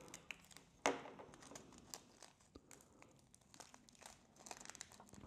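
Plastic packaging of a Miniverse Make It Mini sushi restaurant pack crinkles and crunches as it is cut open with an X-Acto knife, with one sharper snap near the start and then quiet, scattered rustling up close.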